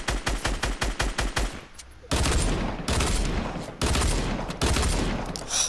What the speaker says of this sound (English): Finished him off with the dual pistols up there.